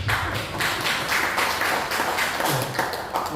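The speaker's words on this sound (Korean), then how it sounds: "박수 한번 해주시죠" An audience at a church ceremony breaks into steady applause, with many hands clapping in a continuous, moderately loud wash.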